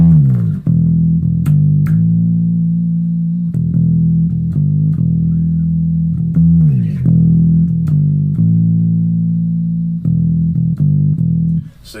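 An electric bass plays a line of sustained notes, with several sliding pitch shifts between octaves struck by the fingers, loud and close with no talking.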